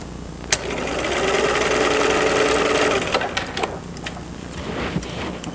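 A home sewing machine stitches a waistband extension in a quick steady whirr for a couple of seconds, then stops, followed by a few light clicks and fabric handling, close up with no talking.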